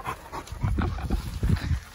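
A dog panting on a group hike, with rhythmic breathy bursts close to the listener, steady and moderately loud, with no talk.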